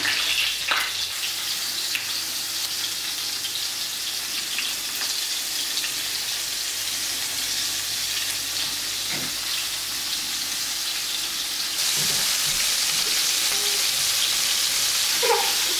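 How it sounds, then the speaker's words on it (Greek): Floured meatballs frying in a pan for Cretan cooking, giving a steady, close, continuous sizzle throughout that grows slightly louder near the end. "Μαζί με τη βοηθό της η Ρεβέκα, λοιπόν, τηγανίζουν τους κεφτέδες."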